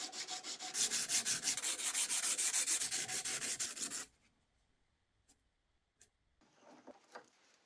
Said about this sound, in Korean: 사포는 이렇게 둥근 곳에 말아서 밀어줄 거예요.